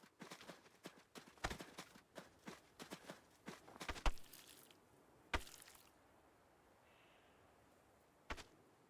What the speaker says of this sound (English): And now we feed the horse.